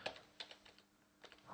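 Quiet keystrokes on a computer keyboard, a handful of soft clicks in two short bursts separated by a brief pause.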